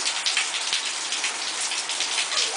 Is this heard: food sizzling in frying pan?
no